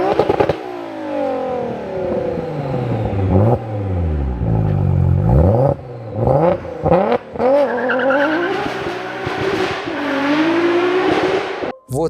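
An Audi S4 2.7-litre twin-turbo V6 engine revs hard, climbing and dropping in pitch through repeated bursts, loud and close, with tire noise and clatter mixed in.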